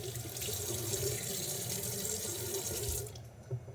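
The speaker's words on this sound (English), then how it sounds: "Rinse the chicken with some water." Tap water runs steadily over raw chicken being rinsed in a sink, a close, continuous splashing hiss that tapers off near the end.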